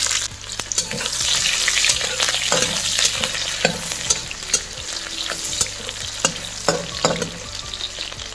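Onions frying in hot oil hiss with a steady, loud sizzle, broken by frequent scraping stirs of a spatula throughout, with no talking.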